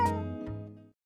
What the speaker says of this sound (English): I'd heard it meowing most days, but never saw it.